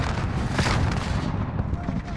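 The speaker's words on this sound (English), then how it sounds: "Grenade out!" A grenade going off in a team deathmatch video game, a deep rumbling boom that rolls on for a couple of seconds, with players' voices chattering over it.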